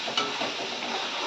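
Chili spice paste frying in a pan for a fish curry, a short burst of dense sizzling with a light scrape of stirring, close and steady.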